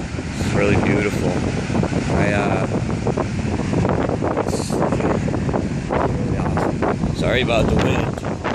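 Strong wind buffets the microphone on a beach with high waves, a loud, constant roar and rumble with surf washing underneath and brief faint voice fragments.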